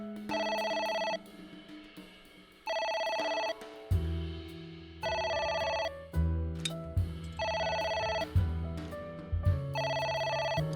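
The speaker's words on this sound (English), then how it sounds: "Me desperately waiting to not answer the phone, so they'll just give up and leave a message." A telephone rings in the video game AI: The Somnium Files, with repeated electronic ring bursts in a steady on-off pattern over game background music and occasional thuds.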